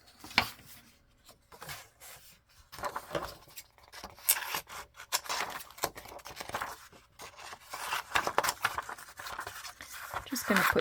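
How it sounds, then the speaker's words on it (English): A paper trimmer slices through paper while crafting pocket embellishments, giving scraping, rubbing cuts that come in uneven bursts across the clip, fairly close and moderately loud. "this is the last cut, and then I won't use my trimmer anymore to make you crazy with the sound"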